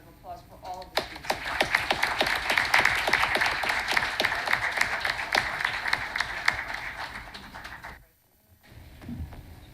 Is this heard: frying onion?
no